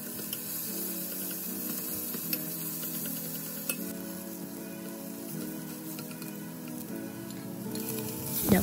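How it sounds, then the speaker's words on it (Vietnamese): Minced shallots and garlic fry in hot oil in a pot on the stove, a steady dense sizzle with light crackles and occasional stirring clinks, close and continuous. "Hành tỏi băm hồi nãy cho vào phi vàng nhẹ hen."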